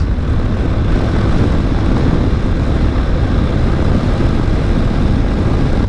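A 2021 Honda NC750X DCT motorcycle is ridden on the road, its engine a loud, continuous low rumble blended with heavy wind roar from a helmet-level microphone, with no voices.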